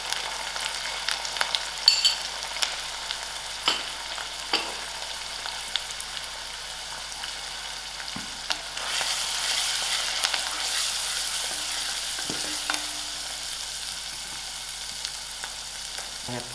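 Masala sizzles and fries in a pan while borlotti beans with potatoes are being cooked, a soft steady crackle with occasional clinks and scrapes of a utensil, quiet and close, with no one speaking.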